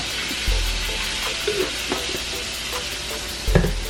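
Tomato sauce goes into a pan of sizzling Mexican rice, and a utensil stirs it with a few distinct scraping knocks over a steady frying hiss. No voices are heard.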